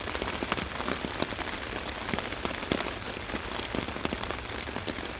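Steady rain patters on a budget tarp outdoors, a dense, even hiss of drops with scattered sharper taps close by, continuous throughout with no voices.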